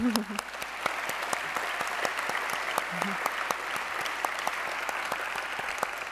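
Sparse, scattered clapping from a modest audience at a ministry gathering, a few sharp hand claps spread across several seconds over a quiet room with faint murmuring, rather than a full ovation.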